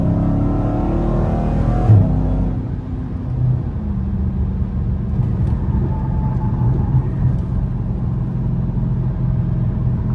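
A Dodge Challenger Scat Pack with the 392 engine roars hard for a couple of seconds, then backs off into a lower, steady rumbling cruise from inside the car.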